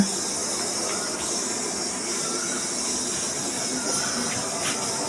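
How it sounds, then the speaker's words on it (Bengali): A pressure cooker with eggs and potatoes boiling inside hisses steadily and loudly at close range, a continuous bright steam jet with no voices. "প্রেশার কুকারে রান্না হচ্ছে"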